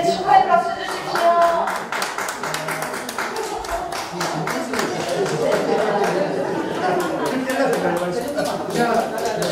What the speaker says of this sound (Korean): 축하해 박수 주십시오